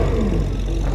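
A Porsche engine roars loudly and steadily, a dense low rumble with a falling tone sweeping through it, close and continuous for about a second.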